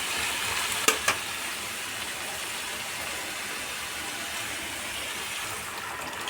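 Boiled banana stem stirred in a frying pan, a steady broadband sizzle and scraping throughout, with two brief clinks of a utensil early on.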